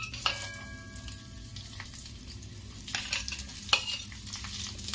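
Onions dropped into a little hot oil in a pan for egg korma give a steady, close frying sizzle, broken by a few sharp stirring clinks, with no talking.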